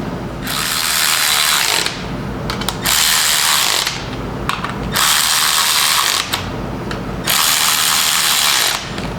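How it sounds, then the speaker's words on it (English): A ratchet spins and clicks in quick bursts while tightening nuts onto washers on the shift linkage of a Triumph Spitfire, with four close, loud, rapid runs of ticking separated by short pauses. "On your new washers. Thread on the nuts."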